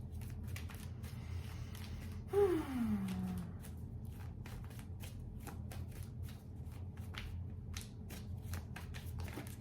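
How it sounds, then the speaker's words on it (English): An old Rider-Waite Smith tarot deck is shuffled by hand with quiet, rapid riffling and flicking taps that repeat throughout. A brief squeaky sliding sound comes early, and everything sits over a low steady hum. "The cards literally like stick together when I shuffle it."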